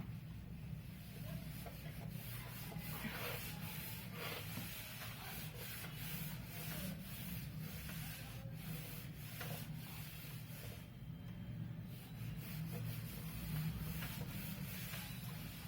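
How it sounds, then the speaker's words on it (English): Writing on a classroom board is rubbed out with steady, faint, continuous scrubbing that runs without a break, with no talk. "So I am rubbing this now."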